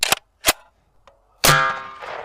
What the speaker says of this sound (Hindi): निशान की तरफ बढ़ रहे हैं, 308 से शूट कर रहे हैं।